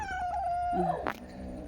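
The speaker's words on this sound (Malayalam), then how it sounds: "ദേഷ്യണ്ട് പൂച്ചയ്ക്ക്" A mother cat with newborn kittens lets out a drawn-out, tense growling yowl that ends in a short sharp hiss, close by.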